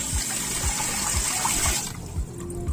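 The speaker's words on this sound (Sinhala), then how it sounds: "දැන් වතුර එනවා." Water gushes into a tank through a float valve in a steady, loud hissing rush with rhythmic gurgling pulses, then the flow quietens.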